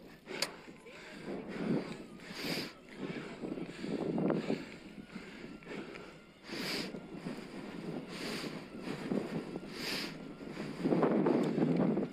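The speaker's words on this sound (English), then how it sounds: "The wind's coming right off the top of that ridge, straight into my mush." Strong headwind buffets the microphone while riding a Specialized Turbo Vado SL e-bike up a steep Peak District climb, a continuous low rumbling roar with surging gusts throughout.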